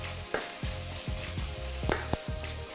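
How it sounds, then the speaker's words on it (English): Beef for a black bean hor fun stir fry sears in a hot pan with a steady, close sizzle. Scraping and turning sounds break in several times, and there is no talking. "Turn that beef around. And sear the other side."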